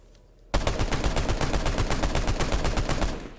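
After a short quiet moment, a video game assault rifle with a muzzle brake fires a fast continuous burst, loud and harsh, steady rapid shots for about three seconds.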